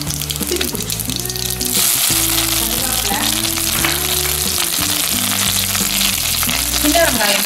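Dried red chillies fry in hot oil with a loud, steady crackling sizzle, stirred now and then for a Kerala-style keerai sambar. The sizzle is close and fills the whole stretch, with brief rumbling thumps from the pan underneath.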